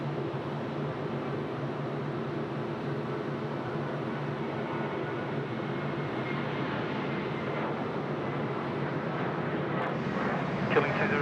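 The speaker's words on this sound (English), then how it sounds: "The Qantas 737 off to Adelaide there." A Qantas Boeing 737 airliner taking off from Sydney Airport, a steady, broad roar of jet engines at a distance that holds for the whole stretch.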